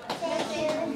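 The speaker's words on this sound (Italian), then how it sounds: "un applauso da parte nostra" A short burst of hand clapping from a small group at an international violin competition, with voices murmuring underneath.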